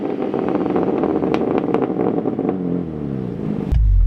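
BMW S58-engined M car fitted with a Remus center exhaust, idling with a steady, deep rumble before a louder low-end surge near the end, close by and with no voices.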